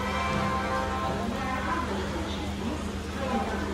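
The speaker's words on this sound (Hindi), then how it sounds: "बारिश काफ़ी तेज़ हो रही है।" Heavy rain pours steadily around a Mewar Express sleeper coach travelling from Udaipur to Delhi, a dense constant hiss mixed with train rumble, loud and unbroken, with a voice talking over it.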